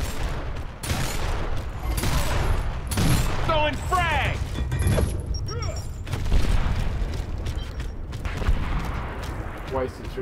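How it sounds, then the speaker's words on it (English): A frag grenade explodes in a video game match amid a steady din of gunfire and booming blasts, with whistling and mechanical effects layered over continuous loud combat and a player talking. "Frag grenade."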